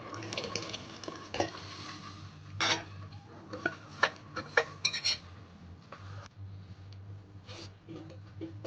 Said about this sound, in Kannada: ಈಗ ನಾವು ರುಬ್ಬಿಕೊಂಡಿರುವಂಥ ಮಸಾಲೆಯನ್ನು ಸೇರಿಸಿಕೊಳ್ತಾ ಇದ್ದೇವೆ